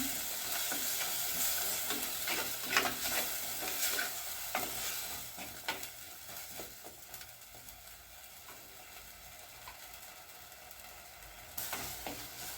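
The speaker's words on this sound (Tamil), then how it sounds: "கொஞ்ச நேரம் அதை அப்படியே நல்லா வதக்கிக்கிடுவோம்." A thick masala with oil-fried brinjal sizzles in a pan while a spoon stirs and scrapes in uneven strokes, fairly close, with no talking.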